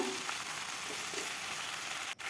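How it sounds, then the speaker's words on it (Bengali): Malabar spinach tossed with fried jackfruit seeds in a hot pan gives a steady, close sizzle, with faint stirring scrapes and a brief dip near the end. "পুঁই শাকটা দিয়ে ভালোভাবে নেড়ে দেব"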